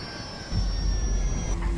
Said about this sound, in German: Plane's coming down!